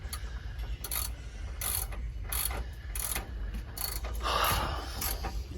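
A mechanic works a ratchet on a bolt beside a toolbox, giving repeated bursts of clicking pawl strokes over a steady low background hum, fairly close and moderately loud.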